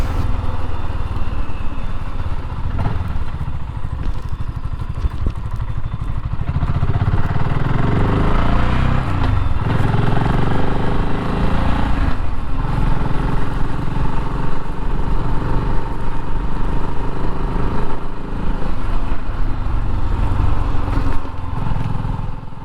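A BSA Goldstar 650 motorcycle rides through village roads and over a canal swing bridge, with a steady, loud engine drone and road rumble that continue without pause.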